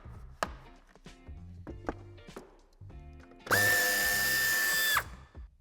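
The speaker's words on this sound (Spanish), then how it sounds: "Una vez hemos aflojado el tornillo de la parte superior, podemos desmontar el paragolpes" A power drill whirs steadily for about a second and a half, loosening the screw holding the bumper of a 2022 BMW i4 (G26), after a series of light clicks and taps of handling parts.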